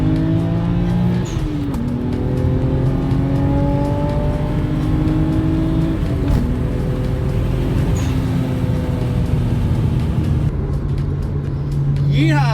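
BMW 335i with N54 engine revving repeatedly, pitch climbing and dropping through gear changes, loud and close with steady road noise underneath.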